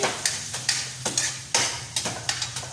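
Garlic frying in a pan while being stirred, with repeated sharp scraping strokes over a soft background sizzle, close and without talk.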